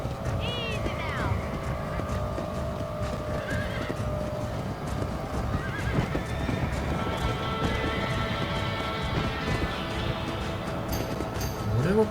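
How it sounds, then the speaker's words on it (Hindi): A galloping horse in Red Dead Redemption, with rapid clip-clop hoofbeats running continuously and a whinnying neigh near the start, loud and close, while someone talks over the game sounds. "लेकिन घोड़ा तो भाग यार।"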